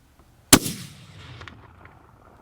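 A single loud rifle shot fired at a bison during a hunt in South Dakota, a sharp crack followed by a rolling echo that fades over about two seconds.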